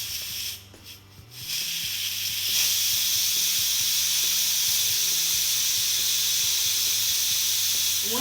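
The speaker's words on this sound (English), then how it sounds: "It's just releasing the steam that was inside the pot." Steam hisses steadily from the valve of a pressure cooker pot holding chicken pho as the pressure is let out, a broad loud rush that swells after a brief dip and holds, with low hum beneath.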